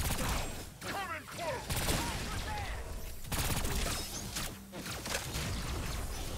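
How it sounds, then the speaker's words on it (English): Explosive weapon fire in the shooter game Agents of Mayhem, a faint jumble of repeated blasts and crashes with whooshing effects spread across several seconds, mixed with game noise. "This is what I love about her gun. She does explosives and shit."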